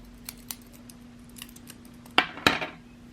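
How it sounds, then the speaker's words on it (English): Scissors snip through crochet yarn, with two sharp, close cuts near the end after a few faint handling taps, alone in a quiet room. "cut your yarn"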